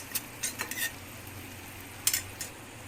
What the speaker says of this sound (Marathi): आता आपण यामध्ये काही पावडर मसाले मिसळून घेऊया